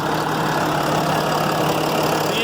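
A 2014 Dodge Ram 5500 diesel rollback flatbed 4x4 idles up close with a constant, even rumble and a dense mechanical clatter, steady and loud from start to finish.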